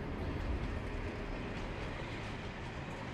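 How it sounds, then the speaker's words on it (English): Passenger train 4083 rolling through snowy northeast China, a dense continuous rumble with faint rhythmic clatter of wheels on rails, heard from inside the carriage and steady throughout, with no talking. "At 5:48 in the morning, I board train 4083 once again."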